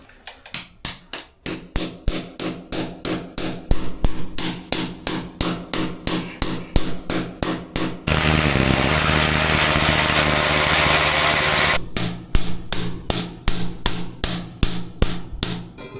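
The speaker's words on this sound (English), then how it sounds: "Just hammer on that and drive her home." Steady hammer blows ring out on metal as a chamfered nut is driven home on milking parlour equipment, at a brisk, even rhythm, broken midway by a few seconds of loud continuous machine noise before the pounding resumes.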